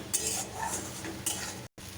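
Spice paste of chilli powders for a bhola fish curry fries in oil while a spoon stirs and scrapes the pan, bursts of sizzle with clinks and a sudden brief cut to silence near the end.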